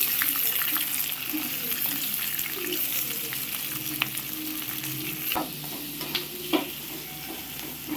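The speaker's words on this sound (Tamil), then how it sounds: "அப்போ வெங்காயம் கொஞ்சம் வதங்கிடுச்சு" Onions and green chillies sautéing in a pan for a sweet corn kurma, a dense steady sizzle with occasional scraping stirs and small clicks near the end.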